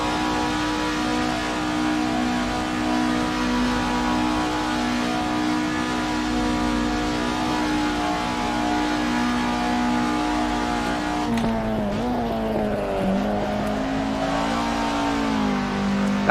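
Race car engine in Assetto Corsa held at full throttle, droning loudly and steadily with pitch climbing through the gears, then dipping and rising again around upshifts flat-shifted without lifting, near and continuous with no talk.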